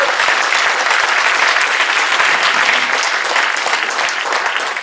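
An audience at a French conference claps in a dense, sustained round of applause, loud and close and steady throughout.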